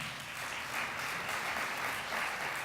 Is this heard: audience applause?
yes